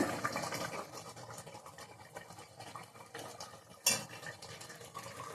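Chicken curry being stirred in a pot after coriander powder and garam masala are added, with steady soft scraping and clinking of a spoon against the vessel and one sharper knock near the end.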